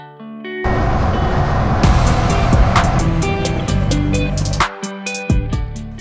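A 2022 Honda CB500 motorcycle with a 471cc parallel-twin engine, ridden hard: after a quiet start, a loud, close engine roar kicks in and climbs through revs, dipping briefly near the end as if shifting, with no talk.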